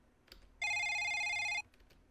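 A mobile phone goes off in a dark, quiet room, giving one short electronic ringtone burst of about a second, loud and near against near silence.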